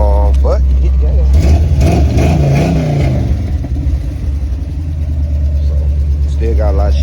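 A Monte Carlo's self-installed engine, with a badly worn carburetor and timing still unset, revs up hard and holds a loud, rough drone. Someone talks briefly at the start and end.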